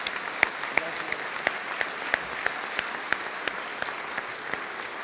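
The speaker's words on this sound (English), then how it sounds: "Let's give all of our Teachers of the Year a round of applause." Applause from a modest audience, steady clapping with individual sharp claps popping out at a regular, almost rhythmic pace.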